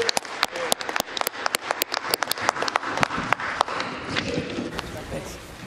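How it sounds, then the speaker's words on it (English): Members of a provincial legislature applaud in the chamber, scattered loud individual claps over a steady crowd patter that fades out after several seconds. "let's give them a round of applause."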